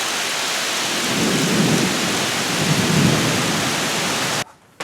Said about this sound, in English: Alright, enough with watching the lightning storm.